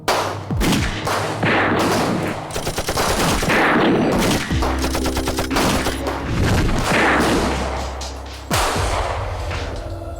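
Rapid bursts of gunfire ring out as bullets are fired at spider web material in a test, with loud cracking volleys and heavy thumps packed closely together.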